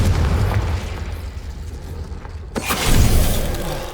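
Confringo fire spell blasting in Hogwarts Legacy, a loud booming explosion with a sharp burst near the midpoint followed by a swelling roar and rumbling tail, no voices.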